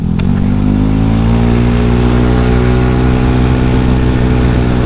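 A stock-engine Honda Scoopy with a Juken aftermarket exhaust, tuned and ridden hard, gives a loud, continuous mid-pitched engine drone with steady harmonics and no talk over it.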